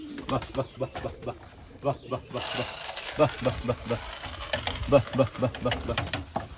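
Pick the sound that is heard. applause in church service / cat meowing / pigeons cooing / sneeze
pigeons cooing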